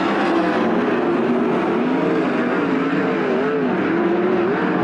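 410 sprint cars race at Attica Raceway Park, their engines a loud, continuous, high-pitched roar that rises and falls slightly as the pack circles the dirt track, with no voices over it.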